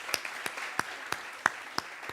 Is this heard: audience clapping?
yes